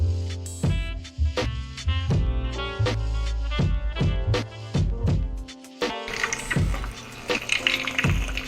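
Water pours steadily into a goldfish tank, gurgling and splashing loudly and nearby with irregular bubbling surges throughout.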